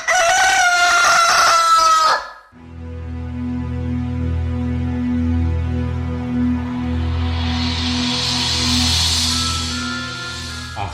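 A rooster gives one loud, close crow lasting about two seconds in a church passion play staging, followed by a sustained low droning tone that swells softly toward the end.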